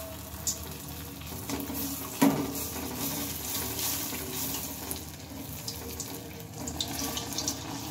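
Malpua batter fries in hot oil in a small kadai over a low gas flame, giving a soft, steady sizzle that stays quiet throughout apart from one brief bump.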